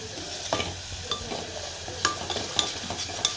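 Onion vegetable frying in a pan with kasuri methi and spices, a spoon stirring and scraping in several distinct strokes over a low continuous sizzle, close and clear with no talk.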